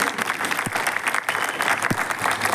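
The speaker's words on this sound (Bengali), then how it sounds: "তো একটা জোরে হাততালি আগে।" An audience at a church gathering in Beleghata, Kolkata claps steadily in a dense, moderately loud round of applause with a few sharper individual claps standing out.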